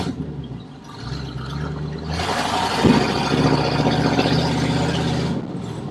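A 1988 Chevy K30 truck with a loud, faulty exhaust rumbles while driving, its engine note swelling into a rougher, louder roar partway through and holding steady, close and alone.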